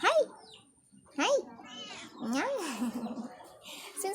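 A kitten kept outdoors meows repeatedly, several rising-and-falling cries in close succession, loud and near, with a long drawn-out call in the middle.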